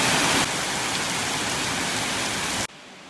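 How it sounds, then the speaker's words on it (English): Heavy, aggressive rain shower pouring down in Hong Kong, a dense steady hiss of rain that cuts off abruptly near the end. "impromptu aggressive rain showers, which is so typical for Hong Kong"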